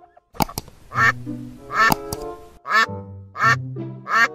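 A duck quacks in a series of loud, close, nasal calls, with several separate bursts of quacking over a few seconds and no talking.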